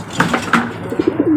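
Racing pigeons at a loft coo in soft repeated low calls, close and fairly loud, with faint rustling as the birds move about.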